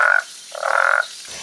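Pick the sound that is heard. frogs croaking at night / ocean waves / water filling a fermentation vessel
frogs croaking at night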